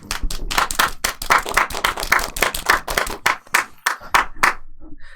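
A few people clap by hand for Sandy on a live stream, sharp close claps in quick uneven bursts that thin out toward the end.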